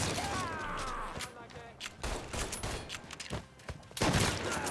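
Shotgun blasts ring out in the Mafia III video game, several sharp booming shots at irregular intervals amid game noise, with a loud burst near the end and some talk mixed in.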